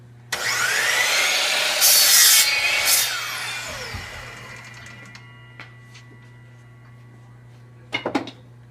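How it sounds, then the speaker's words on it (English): Power saw in a school woodshop cutting through wood, a loud sustained whine and rasp for about three seconds that trails off as the blade spins down, followed by a few brief knocks near the end. "Allow the blade to reach full speed before cutting the wood."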